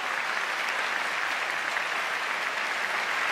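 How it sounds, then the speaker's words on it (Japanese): Steady, dense crowd applause and cheering fill an indoor arena after the deciding point of the 2015 All-Japan Badminton Championships final, loud and unbroken throughout with no clear speech. "場内大歓声。"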